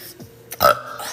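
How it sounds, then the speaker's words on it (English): A woman lets out one loud, close, gurgling burp after drinking a carbonated drink, preceded by a brief quieter sound. "I can't stop burping."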